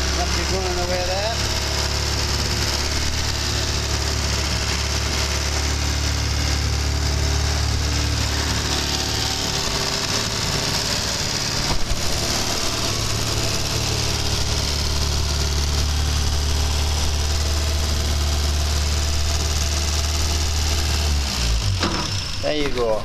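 A small MG Midget engine, freshly serviced with cleaned points and no alternator fitted, idles steadily and loudly up close from start to finish with a constant low drone.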